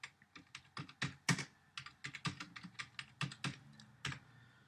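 Fairly quiet computer keyboard typing as code is entered, an uneven run of light key clicks with brief pauses and no voices.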